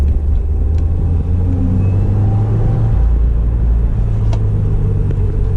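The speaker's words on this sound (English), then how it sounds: "even stock, guys, the turbo, you can hear it spool very, very well" A 2015 Subaru WRX engine rumbles loudly and close, with a low droning revving that shifts in pitch midway, a faint whistling hint of turbo spool riding above the steady roar.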